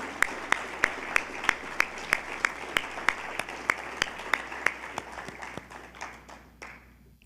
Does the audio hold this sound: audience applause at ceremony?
yes